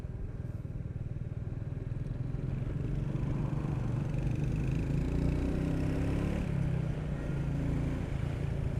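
A 2021 Royal Enfield Meteor 350 Fireball's single-cylinder engine runs close and loud, a dense low thrum that swells as the revs rise midway and then ease slightly, with no voices.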